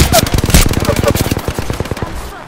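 Rapid automatic gunfire in Apex Legends, a loud, close burst of evenly spaced shots that rattles on for about two seconds before tapering off.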